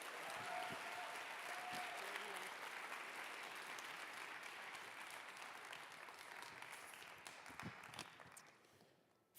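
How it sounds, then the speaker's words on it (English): A rally crowd at a climate campaign event gives a sustained round of applause, steady dense clapping that slowly tapers over several seconds, with faint voices mixed in. "Let's give them another round of applause."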